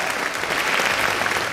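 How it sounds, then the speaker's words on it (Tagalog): Steady, dense applause mixed with cheering and shouts from a large audience at a broadcast event, continuous and fairly loud throughout. "palakpakan na may kasamang hiyawan"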